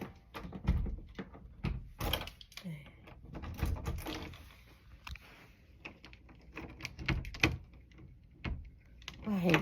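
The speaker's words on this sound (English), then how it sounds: "I'm trying to lock my damn door" A bedroom door lock is worked by hand in a series of close, sharp clicks, knocks and thunks spread irregularly across several seconds.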